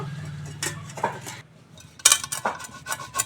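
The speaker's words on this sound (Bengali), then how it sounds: "এইভাবে গ্রেটারে আমি আলুটা আর ডিমটা গ্রেট করে নেব।" Boiled potato and egg rubbed across a metal grater in a kitchen, heard as a few uneven scraping strokes and light metallic clinks and taps, close and fairly quiet with pauses between.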